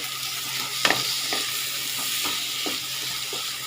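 Salt and turmeric frying in a pan for a Bengali masoor dal with green tomato, a continuous close sizzle with a few sharp stirring scrapes spaced through it and no talk.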